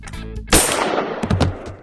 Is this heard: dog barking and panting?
no